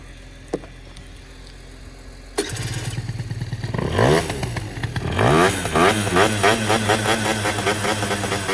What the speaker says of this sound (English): That's a working scooter.